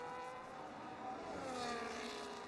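A Haas Formula 1 car in the racing game F1 25 at the Austria Grand Prix, its high-revving engine whining steadily with shifting pitch as it climbs toward turn 3 and brakes.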